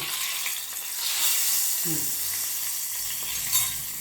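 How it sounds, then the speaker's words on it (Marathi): A hot oil tempering is poured over dahi vada, producing a steady hiss that swells briefly midway, along with a faint clink; close and moderately loud, with no speech. "आपली ही फोडणी जी गरम गरम फोडणी आहे ती ह्याच्यावर ओतून घ्यायची"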